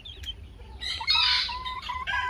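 A laying hen in a backyard coop gives a few short, close clucks and squawks in quick bursts over quiet background hum.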